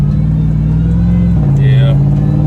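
A 4x4 truck's engine hums loudly from inside the cab, a steady tonal whine that dips slightly in pitch partway through, with a person talking over it.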